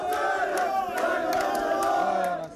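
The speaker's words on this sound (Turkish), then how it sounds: "Taraftarlar pandemi önlemleri çerçevesinde çiçek verdikleri oyunculara tezahüratlarla" Football supporters chanting and cheering for their club's players as they hand them flowers, a dense crowd roar with sustained vocal tones, steady and fairly loud throughout, fading slightly at the end.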